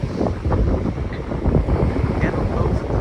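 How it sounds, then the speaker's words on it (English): Strong wind buffets the microphone on a beach near dunes, a loud continuous low rumble with gusty surges and some surf-like wash mixed in. "It's a bit windy today"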